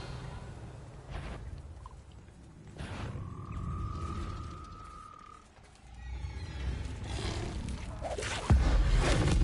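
Revelio spell cast in the Hogwarts Legacy video game: a shimmering magical ringing tone sustained for a few seconds, then a second fainter sweep, layered over ambient game sounds and a closing impact.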